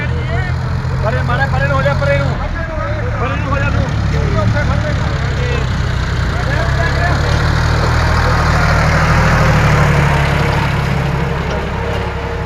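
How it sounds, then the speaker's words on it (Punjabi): Heavy diesel engines rumble steadily as a convoy of tractors with trolleys rolls past in a line in flood-hit Firozpur district, with voices talking over the continuous low drone. "ਟਰੈਕਟਰਾਂ ਦਾ ਕਾਫਲਾ"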